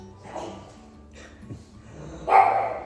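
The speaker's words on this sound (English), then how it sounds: "Anybody that goes past, they bark, as you can hear." Two pugs give a few short, snorty barks and yips at a moderate distance in a yard, scattered irregularly, with the last bark louder and closer.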